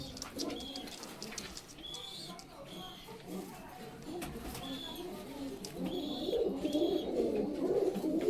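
Pakistani golden pigeons of a pure bloodline coo in low, soft repeated calls amid a busy loft, with sharp chirps from other birds cutting in now and then.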